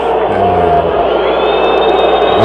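Stadium crowd in Brazil at a 1993 Campeonato Brasileiro match between Vasco and Palmeiras, booing a defender: a dense, sustained roar of many voices with a low droning tone throughout, loud and continuous for the whole stretch.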